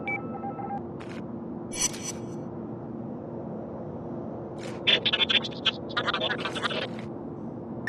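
In the game inFAMOUS, an encrypted audio message plays back from a portable audio drive: garbled bursts of scrambled, tone-like digital noise and chirps over a low steady hum, with a voice talking underneath.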